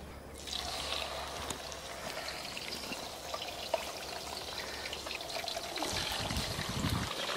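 Small pieces of fish fry in hot oil for Michoacán-style golden fish tacos, giving a steady, dense sizzle and crackle with occasional pops, fairly close and without talk.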